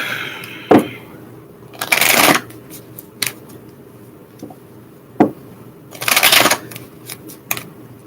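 A Moonology oracle card deck is shuffled in three distinct bursts of riffling and slapping cards, close and fairly loud, with quiet pauses between them.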